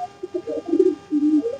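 Pigeons coo close by as they are let out for feeding, with a few clear, low, warbling coos rising and falling in quick succession.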